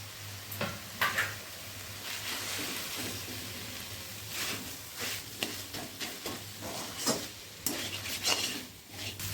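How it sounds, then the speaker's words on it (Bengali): Grated potato and meat fry with vegetables in a pan, a close, moderate sizzle broken by repeated scraping stirs and clinks of a utensil against the metal. "সমস্ত সবজির সঙ্গে আমি আলু আর মাংসটাকে আরও পাঁচ মিনিট ভেজে নিয়েছি"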